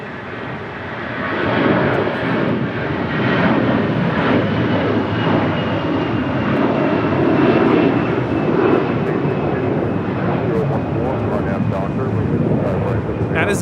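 An American Airlines Airbus A321 departing Los Angeles International for Charlotte, a loud, close jet roar that builds within the first two seconds and stays strong, with voices faintly mixed in.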